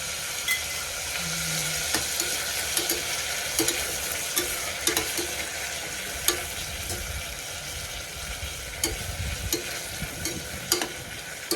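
Peas and a ground spice mix go into a hot frying pan, giving a steady sizzle with repeated scraping stirs and light clinks throughout, close and fairly loud.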